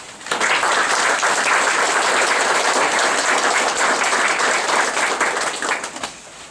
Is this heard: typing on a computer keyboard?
no